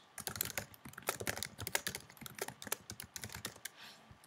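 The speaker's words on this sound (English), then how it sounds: "Hopefully I'm not typing too fast." Rapid typing on a computer keyboard, with dense, uneven bursts of sharp key clicks close up and no voices.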